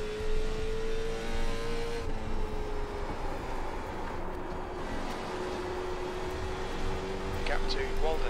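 A Late Model Stock race car engine in iRacing at North Wilkesboro drones steadily under throttle, its pitch shifting gradually as the car runs, with a voice talking over the continuous engine note.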